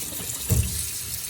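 Potatoes being washed under a running kitchen tap, a steady close stream of water splashing into the sink with a brief heavier gush midway.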